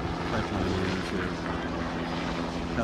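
Helicopters approach over a Dakota Access Pipeline protest site where pipeline workers with baseball bats confront water protectors, a steady loud rotor and engine drone filling the whole stretch without a break.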